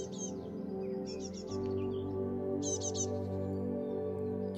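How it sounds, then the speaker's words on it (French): Bursts of bright bird chirps come and go over a steady, low musical drone, faint in the background. "tu entends chanter les oiseaux."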